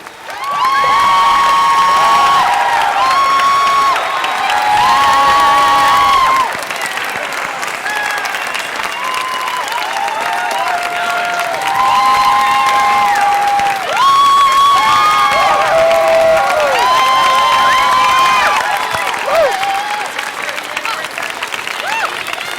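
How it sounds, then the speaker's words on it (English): Sustained applause from a large audience with cheering and a few shouts, loud and steady throughout, swelling in waves. "let's give them a round of applause, please"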